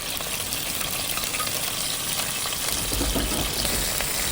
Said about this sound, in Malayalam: ചട്ടി ചൂടായതിനു ശേഷം നമ്മൾ എണ്ണ ഒഴിക്കുന്നുണ്ട് പച്ചവളവും വേപ്പിലയും പിന്നെ ലേശം ഉലുവയും ഇടുന്നുണ്ട്